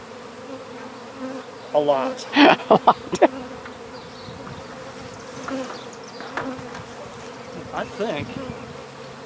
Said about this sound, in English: I could have been counting how many bees came out of there.